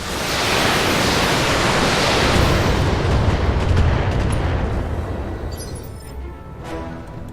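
A salvo of LRM missiles launched in the BattleTech video game sets off a loud, sustained roar of rushing blasts that swells, holds for several seconds and then thins out into a softer rumble.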